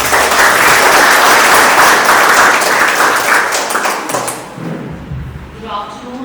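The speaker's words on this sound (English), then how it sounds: "Please put a big round of applause for ma'am" An audience at a career counselling seminar gives the speaker a loud round of applause, dense and sustained for over four seconds before quickly dying away, with talk and microphone handling following.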